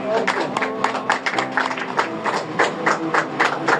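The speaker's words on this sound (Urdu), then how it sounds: "بھرپور تالیوں کے ساتھ" A church congregation claps in welcome of the pastor at a Sunday service, a close, loud and dense burst of hand claps that continues steadily throughout.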